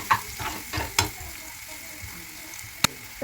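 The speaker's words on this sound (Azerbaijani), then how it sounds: "Tökəndən sonra bunları qarışdırıram." Vegetables with black pepper and turmeric fry in a pan for soup while a spoon stirs them, sharp scraping clicks spaced over a soft, steady sizzle.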